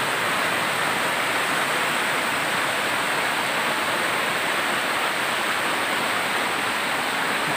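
Large creek flowing beside big rocks, a steady broadband rush of water that stays loud and unbroken throughout with no voices.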